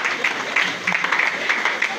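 Church congregation applauding to acclaim the Lord: a brief, steady patter of many hands clapping close by, fairly loud and continuous, with voices mixed in.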